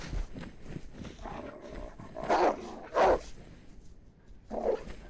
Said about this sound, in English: 2 bloody Dobermans